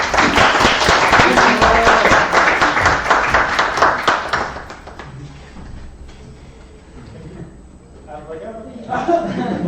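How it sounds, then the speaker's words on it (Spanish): A crowd claps in dense, even applause for about four seconds at a diploma presentation, then it fades into murmuring voices and scattered sounds. "Aplausos."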